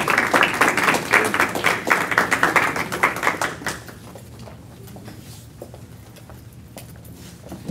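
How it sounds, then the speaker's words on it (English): Audience applause at a community ceremony as a speaker is introduced: loud, dense clapping from many hands for about four seconds, then quickly fading to scattered claps and quiet room noise. "Please give him a round of applause."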